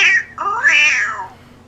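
A cat gives two close, loud meows, a short one and then a longer rising-and-falling cry, with no talk.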